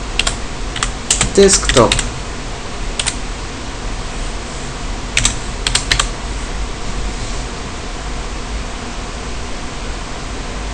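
Computer keyboard keys are tapped in a few quick bursts over a steady fan-like hiss, with a short spoken word partway through.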